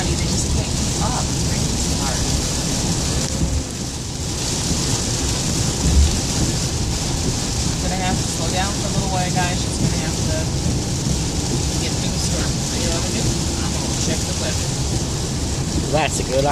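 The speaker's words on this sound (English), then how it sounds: "She's gonna have to get through the storm." Heavy rain and thunderstorm pounding a car while driving, a dense, loud, steady roar of water on the vehicle with rumbling underneath, while people talk over it.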